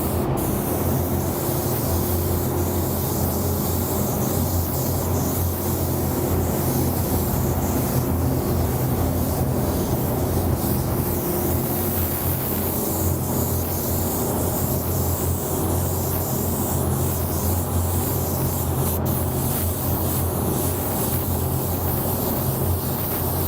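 A spray gun lays a coat of fluorescent aqua paint over blue, making a continuous loud, close hiss with a low mechanical rumble beneath it and no break throughout.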